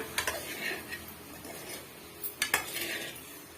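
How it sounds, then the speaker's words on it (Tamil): Egg gravy stirred gently in a pan: several light clinks and scrapes of a spoon against metal over a faint simmering hiss, close and quiet, with no talking. "சேர்த்துட்டு முட்டைகள் உடையாமல் இது மாதிரி மிக்ஸ் பண்ணி கொடுத்துக்குங்க"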